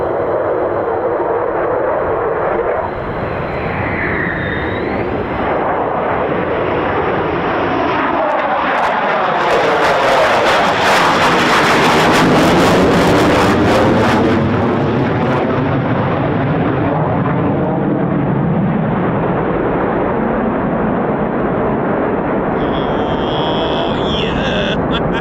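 F-15 or F-35 fighter jet at RAF Lakenheath roars past with afterburner, swelling from a distant whine to a loud, rumbling peak and a sweeping pass before fading back into a steady roar.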